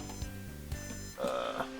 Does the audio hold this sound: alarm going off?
yes